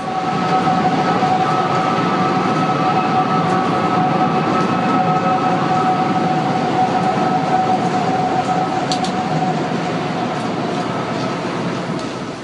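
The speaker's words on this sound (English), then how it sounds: "the tower began whistling again with a slightly different two-toned cry, calling it unmistakable and very chilling" Two steady, eerie whistling tones from the One World Trade Center skyscraper hold beneath a loud, continuous windy roar, with no voices.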